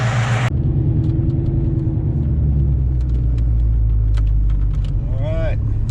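An 800+ horsepower Viper Blue Fox Body car rumbles loudly up close as it drives, a deep continuous engine drone filling the scene, with brief interior rattles and voices heard faintly.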